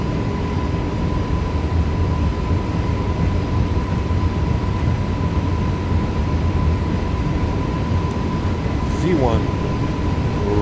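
iniBuilds A320neo engines roaring at takeoff power in Microsoft Flight Simulator, a loud, constant broadband drone with a steady tonal whine, and a brief voice speaking over it.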